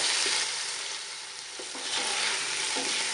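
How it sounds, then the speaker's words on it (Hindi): Chicken pieces fry in a pan for soup, a steady close hiss and sizzle with faint stirring scrapes, no voices. "हमने गोश्त को थोड़ी देर इसमें भून लेना है"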